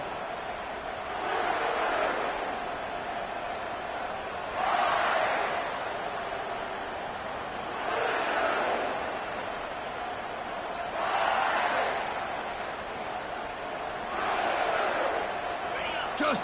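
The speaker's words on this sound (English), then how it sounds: "this home crowd is fired up and ready to make a difference today" A home stadium crowd in the College Football 25 video game roars continuously, swelling into louder cheering waves every few seconds beneath a steady rumble of noise.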